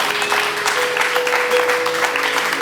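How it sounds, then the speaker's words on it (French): A church congregation at a French-language prayer service bursts into sustained applause, a dense, even clatter of many hands with faint cheering mixed in. "Est-ce qu'on peut acclamer pour la parole de Dieu?"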